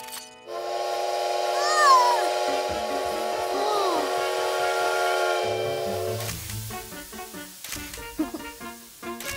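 A loud, drawn-out train whistle blows for several seconds with a bending pitch, followed by rhythmic chugging and scattered clatter, in a cartoon.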